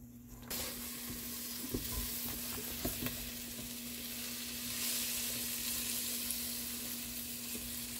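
Onions and garlic sizzle steadily in a hot pan while a utensil stirs them, with scraping clicks at intervals over a continuous frying hiss, close and moderately loud, no one talking.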